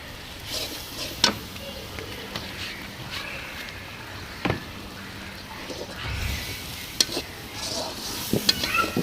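Turmeric and chili powder masala frying in a pan, a soft continuous sizzle close by with scattered sharp clinks and scrapes of stirring, no voices.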